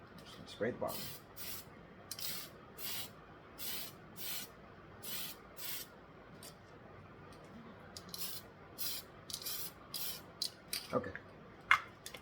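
Repeated short hisses from a spray paint can coating a plastic 1/1000 scale USS Enterprise model come in a steady rhythm, about a dozen bursts, close and moderately loud, with light handling noises near the end.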